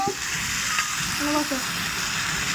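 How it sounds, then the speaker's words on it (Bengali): Chicken meat sizzles steadily in a pan as it is stirred, a constant close frying hiss with occasional scraping from the utensil, while a person talks over it. "মাংসগুলো ভালো করে মিশিয়ে নেবো"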